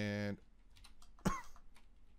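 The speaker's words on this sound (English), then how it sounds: "Pardon my cough." A single short cough from a man playing a modded Minecraft session, coming after a brief sustained tonal sound and followed by quiet keyboard and mouse clicking.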